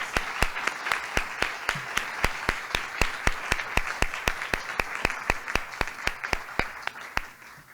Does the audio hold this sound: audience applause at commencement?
yes